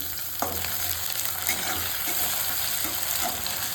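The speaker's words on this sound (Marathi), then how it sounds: "आता आपण याच्यामध्ये टोमॅटो घालूया." Chopped tomatoes hit a pan of browning onions during a Vidarbha-style Marathi ghugarya recipe, giving a steady, dense sizzle and frying hiss. A few stirring clinks sound close under the continuous crackle.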